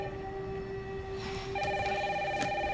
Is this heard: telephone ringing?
yes